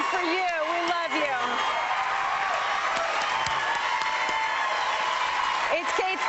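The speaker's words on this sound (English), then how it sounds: "Michael, that applause is for you." A studio audience applauds in a steady, broad wash that begins under a speaking voice and carries on alone, with more talk returning briefly near the end.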